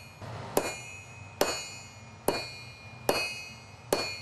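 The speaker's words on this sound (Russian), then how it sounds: "Молотобоец отточенными ударами с плеча начинает оттягивать острие." A sledgehammer beats hot metal with five evenly spaced, ringing blows, drawing out the tip of a petal-shaped Yakut ice pick at a forge. Each strike is sharp and metallic, with a short clanging decay.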